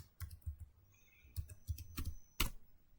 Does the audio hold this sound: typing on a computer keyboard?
yes